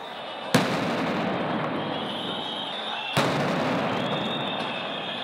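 Police sound grenades go off at a street protest: two sharp, loud bangs a few seconds apart, each cutting through a constant roar of crowd and street noise.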